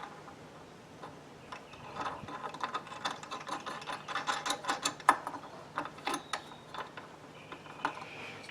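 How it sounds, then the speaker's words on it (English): A bottom nut being loosened and removed on a silkscreen press gives off a run of quick ratcheting clicks and light metallic ticks, close by and fairly quiet, with no voices. "all you do is take the bottom nut off"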